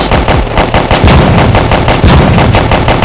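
Rapid gunfire in a Minecraft game, a loud, dense burst of repeated shots in a fast, steady machine-gun rhythm running the whole time, close and with nothing else over it.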